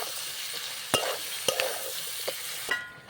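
Chicken being stirred in a pan with salt and turmeric: steady soft sizzle with a few sharp utensil scrapes and clicks against the pan, no talking.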